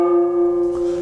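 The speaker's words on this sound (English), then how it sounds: "It actually sounds more like a serving tray than a gong" Brass sheet-metal gong, thin like a serving tray, rings with a steady sustained hum and bright overtones, close and fairly loud, with no attack at the start, only the ongoing ring.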